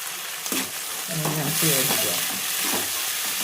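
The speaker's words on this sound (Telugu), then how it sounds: "బాగా ఫ్రై కావాలి ఇప్పుడు చూడండి వేగింది ఉల్లిగడ్డ అల్లం ఎల్లిగడ్డ వేసాం" Onion, ginger and garlic frying in oil for a chicken curry, giving a steady close sizzle with scraping stirs and brief low tonal sounds mixed in.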